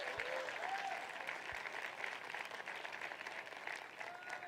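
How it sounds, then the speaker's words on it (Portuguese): A church congregation applauds during a sermon, a faint but continuous wash of clapping with a few voices calling out over it. "Pode aplaudir o Senhor Jesus."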